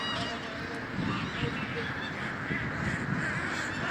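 A flock of ducks and geese honks and quacks close by, a busy overlapping chorus, with a person talking over it.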